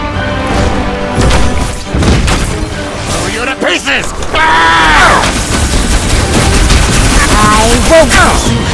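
Missiles launch in Dungeon Hunter 6 amid booming blasts and crashing impacts, layered with game effects and character voices talking throughout.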